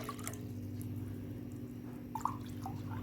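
Water poured into a steel saucepan to make kahwa, a spiced tea; a soft, steady trickle and drip, fairly quiet and close, with no talking.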